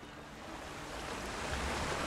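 Waterfall water in the Conan Exiles video game rushes as a steady broadband roar, close and continuous, growing slightly louder over the two seconds with no talk.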